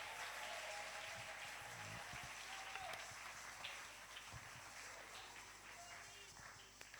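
A church congregation applauding to acclaim the Lord, a broad wash of clapping that starts full and slowly thins out, heard from within the room.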